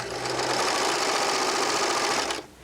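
A Baby Lock serger running a seam, a loud continuous high-speed mechanical whir at an even pitch that stops abruptly near the end, close up with no voices.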